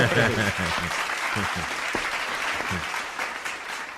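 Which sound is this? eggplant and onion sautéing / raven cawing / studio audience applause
studio audience applause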